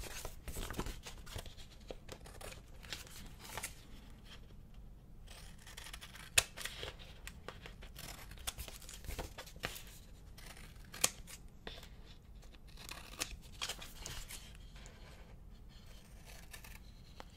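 Scissors snip through planner stickers in a long run of small, close, crisp cuts with faint paper rustling between them, quiet and with no talk.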